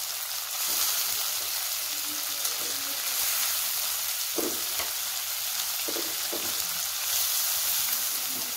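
Tomatoes frying in a pan for carrot paratha, a steady close sizzle with occasional soft stirring scrapes and taps throughout.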